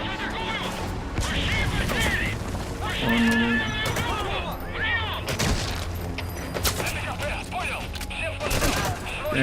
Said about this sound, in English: Maybe with machine gun I can take it out.